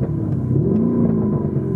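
Lamborghini Urus engine revving in Corsa mode with the exhaust valves open, a loud, close, steady deep rumble with a slight rising swell in pitch, no voices.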